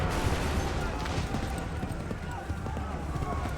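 Volleys of musket fire in Assassin's Creed III during a battle, dense bursts of shots crackling over a busy, noisy field of shouting and movement, loud and continuous.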